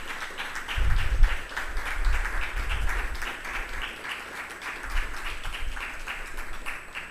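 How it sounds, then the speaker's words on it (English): Audience applauding journalism prize winners at a university investigative journalism award ceremony in Belize, dense clapping throughout, swelling in the first seconds then holding steady at moderate level with low rumble beneath. "Give them a big round of applause, please."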